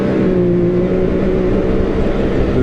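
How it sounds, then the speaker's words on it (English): A 2021 Can-Am X3 Max XRS Turbo RR, a turbocharged side-by-side with a shiftless transmission, is held at full throttle, a loud, steady engine drone heard up close with no break or gear change. "This is full throttle here."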